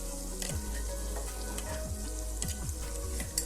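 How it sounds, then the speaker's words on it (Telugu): A paste of coconut, tomato, green chili and onion fries in a pan with a loud, steady sizzle, punctuated by repeated stirring scrapes and light clicks of the spoon, close up and without speech. "తర్వాత కొబ్బరి, టమాటా, పచ్చిమిర్చి, ఉల్లిపాయ పేస్ట్ చేసుకుని ఆ పేస్ట్ని వేయించుకోవాలి"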